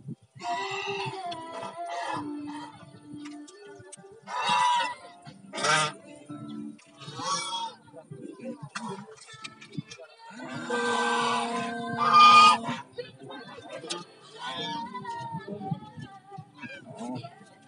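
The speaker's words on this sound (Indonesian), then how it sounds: "Dia lagi makan bebek." Ducks and geese feeding at the Taman Herbal Insani park near Depok give repeated nasal honks in uneven bursts, loud and close, with a few stronger calls toward the end and faint background voices.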